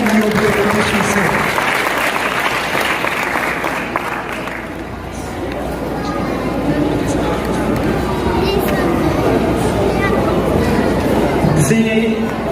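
An audience applauds loudly and steadily at a stage performance, the clapping continuous throughout with crowd chatter and a voice mixed in.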